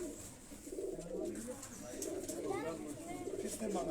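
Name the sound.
Kasuri pigeons cooing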